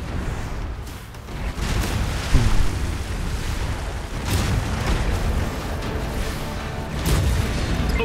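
Naval battle in the strategy game Anno 2205, with big ships trading fire: deep booming explosions and bursts of gunfire roll over a continuous rumbling din, with heavier blasts at several points.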